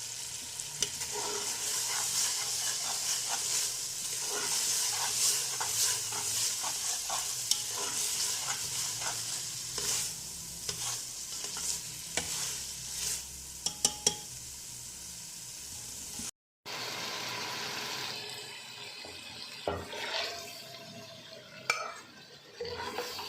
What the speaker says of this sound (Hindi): अब इन्हें बस 2-3 मिनट भूनना है।